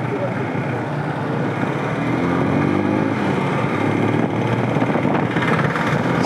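Several sport motorcycles, including a KTM RC 200, ride together at speed with a steady broadband engine and wind roar throughout, loud and continuous, with voices mixed into the noise.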